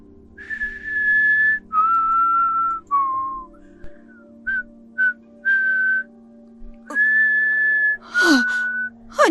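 Eerie human whistling in long wavering tones, several sustained notes and short phrases with pauses between them, clear and fairly close, with a low steady hum underneath and no talk.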